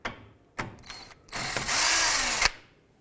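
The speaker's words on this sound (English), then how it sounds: "The next thing I want to do is remove this jam nut right here." Ratcheting wrench work loosening a jam nut on a 2003-2007 Nissan Murano, with a few short clicks and bursts building into a steady, close, buzzing ratchet run about a second long.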